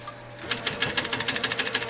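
A sewing machine quilting a fabric block runs in a quick, even burst of stitches, its rapid mechanical clatter starting after a brief pause and sounding close and clear, with no talking.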